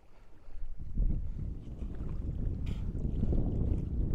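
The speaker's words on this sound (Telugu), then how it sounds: "బీభత్సమైన చలి, గాలి, విపరీతమైన గాలి గైస్" Strong, cold wind at Pangong Lake in Ladakh buffets the microphone with a loud, low rumble that swells after the first second and keeps gusting.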